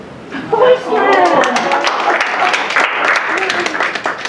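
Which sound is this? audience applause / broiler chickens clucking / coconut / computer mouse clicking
audience applause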